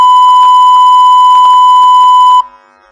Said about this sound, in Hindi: Beep. ये बीप है